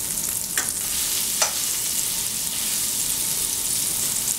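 Salisbury steak patties sizzle steadily and loudly in a hot pan right after being flipped, a constant bright frying hiss with a couple of brief sharper pops and no talking.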